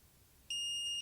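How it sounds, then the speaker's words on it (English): A camera speedlight flash gives a single steady electronic ready beep after recycling, a clean high tone lasting about half a second, close and fairly loud against a quiet background. "this flash has audio beeps that tell you when the flash fires and when it's ready to fire again"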